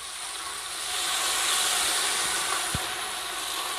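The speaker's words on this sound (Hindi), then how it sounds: "चूल्हा बंद करते हैं और ये तड़का इसमें डाल देती हूँ।" A hot tadka of browned onion, garlic and ginger hits a pan of saag with a loud, sustained sizzling hiss that swells, then settles, with one brief knock partway through.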